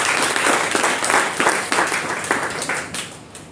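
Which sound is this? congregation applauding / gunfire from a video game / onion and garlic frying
congregation applauding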